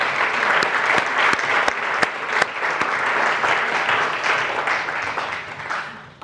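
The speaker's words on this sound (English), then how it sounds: "Can we give Alan Overy a round of applause?" Applause from an awards ceremony audience, steady and loud, with a few sharp individual claps standing out, continuing for several seconds before tapering off.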